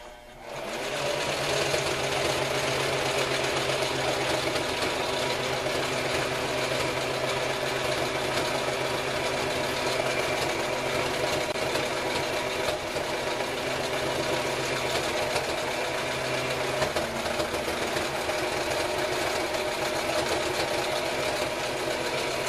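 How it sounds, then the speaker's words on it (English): Sewing machine stitching a canvas haversack, running steadily and loudly for the whole stretch with a continuous mechanical whir and rapid needle rhythm, no talking. "So let's feed her through and start sewing."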